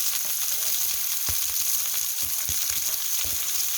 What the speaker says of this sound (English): Now see what the milk's doing? And the flour? Activating it, isn't it? Cooking it out.